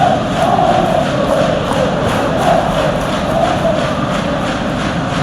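A stadium crowd in a football video game roars steadily throughout, a dense, loud wash of cheering and chanting with no breaks.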